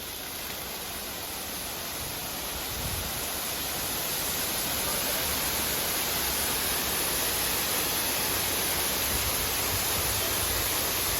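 A waterfall surrounded by trees roars as a steady, broad wash of rushing water that fills the whole scene, swelling slightly louder after the first few seconds and holding constant with no voices.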